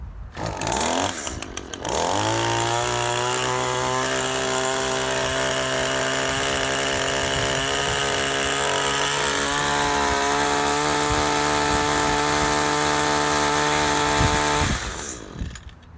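A brand-new Stihl-type SHC 22.5S chainsaw on its first start roars at sustained high revs for about twelve seconds after a brief pull-start sputter, loud and close, then cuts off.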